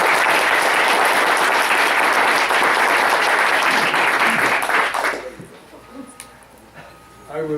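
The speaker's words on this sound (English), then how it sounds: "How about a round of applause for this guy?" A crowd gives loud, sustained applause for a man, heavy clapping for about five seconds that stops abruptly. Quieter scattered sounds follow.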